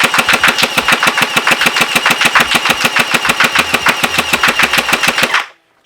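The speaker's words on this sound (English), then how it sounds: "Shooting a little bit faster, but not as much as you would think" An XSHOT Hyper Gel Night Venom gel blaster, powered by an 11.1 V battery, fires a rapid, evenly spaced burst of mechanical shots at close range, loud and continuous for about five seconds before stopping abruptly.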